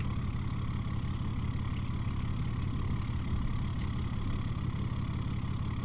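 A Chevrolet pulling truck idles while hooked to the sled at a pulling event, giving a steady low diesel rumble with faint intermittent high ticks, moderately distant and without talk.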